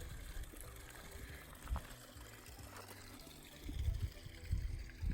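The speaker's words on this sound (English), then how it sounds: "Good flowing water." Stream water flowing along the Pacific Crest Trail in Oregon, a steady low wash and trickle with a few louder surges near the end, heard up close with no talking.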